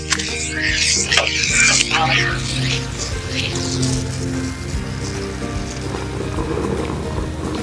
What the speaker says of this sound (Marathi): आपण ते अशी उचलूया आणि तव्यावर टाकून द्यावं वरून